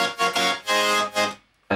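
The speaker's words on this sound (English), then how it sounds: "So without the tape stop, it sounds like this." Bright, dense supersaw synth chords from an animal-sound festival anthem, played dry without any tape-stop effect, in loud rhythmic stabs that cut off cleanly before a brief silence and a final hit.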